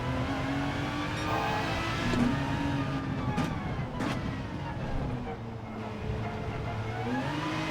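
An Aston Martin DBR9 GT1 race car engine drones from inside the cockpit in Gran Turismo 7, a steady mid-pitched whine with shifting revs and a few sharp gear-change bursts.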